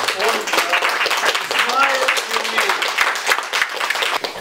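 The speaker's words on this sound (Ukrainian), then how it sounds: "под ваши бурные аплодисменты я приглашаю сюда Бориса Оскаровича" A crowd applauds with dense, steady clapping, while a voice speaks over the top.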